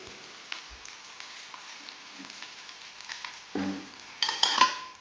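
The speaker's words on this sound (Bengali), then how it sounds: "এই যে ব্রকলিগুলো এর মধ্যে দিয়ে দিচ্ছি। একটু নেড়ে চেড়ে নিলাম।" Fried broccoli tipped into a pan of fried onions and onion greens for a snail curry, then stirred: soft scrapes and clinks of a utensil against the pan, quiet at first, building to brighter clattering near the end.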